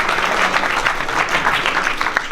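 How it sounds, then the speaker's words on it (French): An audience at a neighbourhood community event claps steadily, a dense, even wash of applause filling the whole moment at close range. "Parce que là, vraiment, applaudissez."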